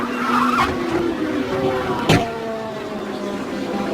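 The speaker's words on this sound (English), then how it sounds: "and Max having a big rollover, double rollover for Max." A race car crashes in a motorsport event and rolls over twice, heard as a sharp impact burst amid continuous engine and skidding noise with tonal whine, loud and close over a steady roar.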